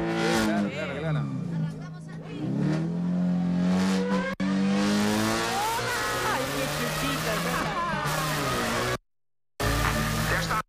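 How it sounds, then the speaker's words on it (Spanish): Chevrolet Sonic race car engines rev and whine on a race track, pitch sweeping up and down as cars pass, loud and close, with people talking over the noise. "Escuchan los motores, ¿no?"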